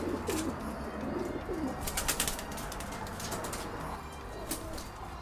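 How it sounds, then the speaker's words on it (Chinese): A month-old young pigeon, just taken down from its nest in a loft, gives a few soft low coos near the start, followed by light rustling and flutter. "这是刚开家的一只小鸽子"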